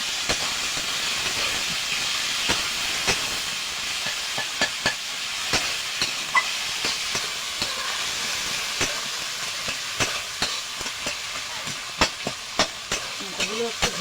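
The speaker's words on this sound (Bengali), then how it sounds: "কাঁচা লঙ্কা ভেজে রাখা মাথাগুলো দিয়ে দেবো।" Fried fish heads and green chillies frying in a pan for a cabbage dish, a steady hiss of sizzling oil broken by scattered sharp pops and scraping stir noises, close and continuous.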